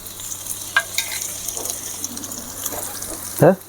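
Curry leaves are stirred into onions frying in ghee for a mutton ghee roast, giving a soft steady sizzle with light scraping stirs and a sharp crackle burst near the end.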